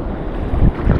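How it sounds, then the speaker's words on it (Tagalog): Strong sea waves slapping around a small fishing boat out on open water, with heavy wind buffeting the microphone and low surging swells over a brief moment. "Malakas pa yung mga alon"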